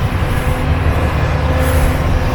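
A garbage truck collects trash on a nearby street behind the speaker, heard as a steady low engine rumble and droning hum that carries continuously at moderate distance without any talk.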